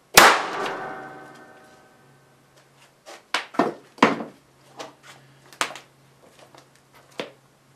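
A capacitor bank discharges into a half microfarad 1000 volt capacitor with a loud sharp bang and ringing metallic decay, then a string of scattered clatters and knocks as debris lands.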